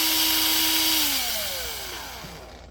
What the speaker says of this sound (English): So I'm just going to drill it out and put a little bitty screw in there.